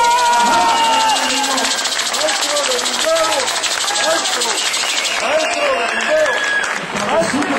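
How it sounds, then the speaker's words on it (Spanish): Audience applause at a live concert in Mexico, a continuous loud wash of clapping filling the hall while a voice speaks over it throughout. "ese aplauso bien duro, por favor"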